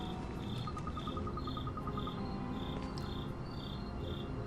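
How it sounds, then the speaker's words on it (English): Crickets chirp steadily in a cave setting of the Ni No Kuni video game, a continuous insect trill with regular pulsing beats, fairly close and alone without any talk. "I can tell the crickets are being picked up!"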